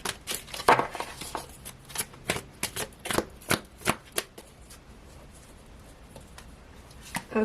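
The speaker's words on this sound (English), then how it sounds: "So let's pull another fairy oracle, get any last information." Fairy oracle cards are shuffled by hand in quick, crisp riffles and flicks up close, a dense burst of rapid slaps that eases toward quieter handling near the end.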